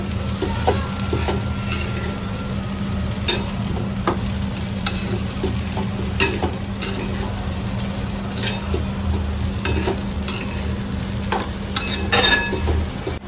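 Gram flour with chopped coriander is stir-fried in a pan, a continuous close sizzle punctuated by regular spatula scrapes and taps, steady and fairly loud throughout, no voices.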